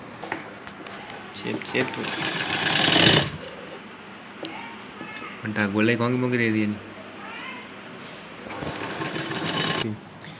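A sewing machine stitching fabric for a girl's top runs in two loud, fast rattling bursts at the start and end, with a person talking in between.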